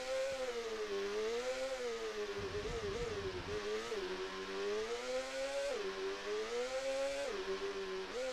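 A synthesized motorcycle engine from the SNES racing game GP-1 drones in a buzzy, harmonic tone that dips and climbs as the bike revs and shifts, continuous and fairly loud with no voices over it.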